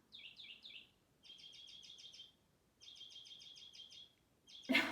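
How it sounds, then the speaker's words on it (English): Loud bird calls outdoors: rapid bursts of bright, repeated chirps in three runs with short pauses, ending in a sharp, harsh squawk. "I am dying how loud this bird is."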